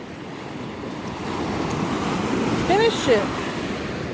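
Waves surge and wash up a winter beach with steady broadband roar and wind buffeting the microphone, while a person talks briefly over the surf near the end.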